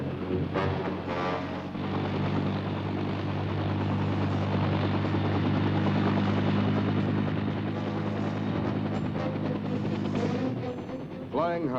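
Military helicopter gunships in flight over valleys, with a loud continuous rotor thump and engine drone filling the whole stretch, while a narrator talks over it.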